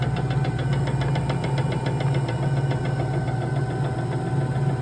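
A large motor drives a beater through a belt and pulley in a custard-making machine, with a loose sheave keeping the outer belt from holding tension. It gives a loud, steady hum with a fast rhythmic knock, close and continuous.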